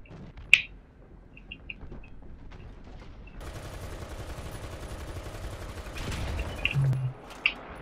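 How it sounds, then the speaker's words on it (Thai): Gunfire from an American M2A4 light tank in the video game War Thunder: a sharp single crack, then a sustained rattling stream of shots that swells into a louder burst before cutting off, with faint chirps scattered around it. "ยิงยิงยิงสาดกระสุนไป"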